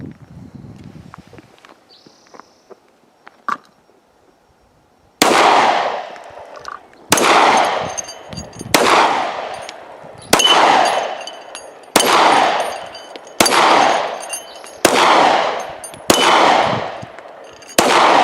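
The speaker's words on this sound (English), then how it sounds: "I'm going to go ahead and shoot at my 4 metal targets out here." Glock 43X pistol fired at metal targets outdoors, a run of about nine loud, evenly spaced shots with ringing echoes after each, following a few seconds of quiet handling noises.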